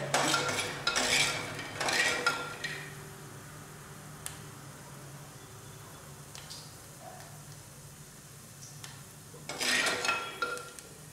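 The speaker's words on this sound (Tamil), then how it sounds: "இந்த எண்ணெயில் இந்த நிலக்கடலை பருப்பை போட்டு கிண்டிக்கலாம் வறுத்துக்கணும்" Metal spatula scraping and stirring peanuts roasting in oil in a pan, in a few bursts at the start and again near the end, with quieter cooking noise between.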